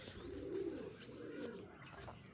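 A female pigeon offered for sale coos softly in low, rolling throaty phrases, nearby but faint, with no voices.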